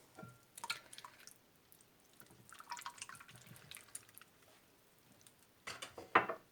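Olive oil is poured into a mixture for potato börek, heard as soft, faint trickling and dripping in a few scattered bursts, with a brief louder drip near the end.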